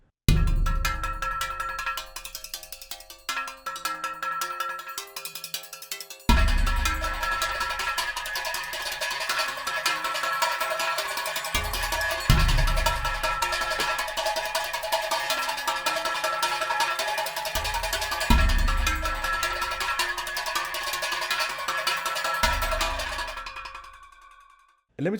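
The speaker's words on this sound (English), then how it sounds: "we used a hanging trumpet and a hanging udu or a clay drum, combined it here with our rubber band and a ship's bell" A sampled instrument blend of hanging trumpet, hanging udu clay drum, rubber band and ship's bell plays as a sustained metallic, resonant texture with repeated low thumping hits that ends in a fade.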